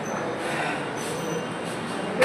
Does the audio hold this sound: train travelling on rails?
yes